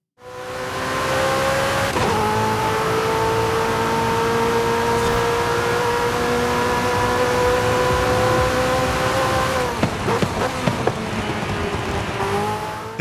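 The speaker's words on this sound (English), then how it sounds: "I want you to hear that flat plane crank V8" A McLaren 765LT's flat-plane-crank V8 wails in Forza Horizon 5 on a final straight, a loud sustained high-pitched howl climbing through the gears, with quick shift breaks near the end.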